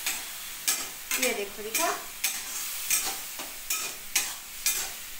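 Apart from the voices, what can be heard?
frying mint pulao ingredients in a pan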